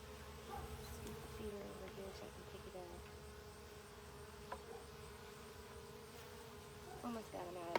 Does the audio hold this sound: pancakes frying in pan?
no